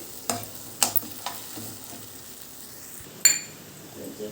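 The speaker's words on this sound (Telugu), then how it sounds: "దీన్ని ఒక రెండు నిమిషాల పాటు లో ఫ్లేమ్లో వేయించుకోవాలి" Spinach paste frying in a pan on a low flame, a faint steady sizzle under a few sharp clinks and scrapes of a spoon stirring against the pan.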